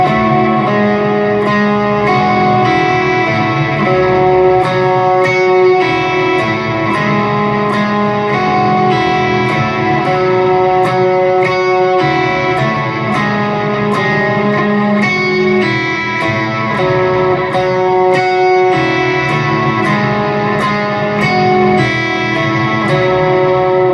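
An electric guitar plays a repeating picked melodic line through delay and gain, bright overdriven notes trailing echoes in a steady rhythm, loud and continuous with no talk.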